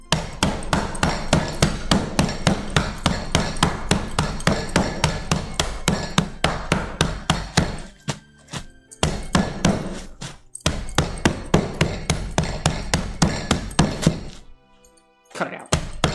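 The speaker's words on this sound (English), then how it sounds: "grab the nearest blunt object to crush your ice with. In this case, it's a wrench that I found on the side of the road" Ice being crushed with a wrench picked up from the roadside: loud, rapid, repeated hard whacks close by, pounding in a steady rhythm for about eight seconds, a brief pause, then more strikes and a final short burst.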